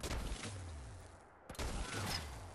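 Enemy gunfire in Fallout 4 during a firefight, a dense rattle of shots at moderate distance that thins out midway, then a sharp crack and renewed bursts.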